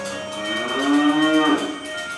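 A dairy cow on a traditional rural homestead gives a single clear, drawn-out moo, close and fairly loud, lasting about a second.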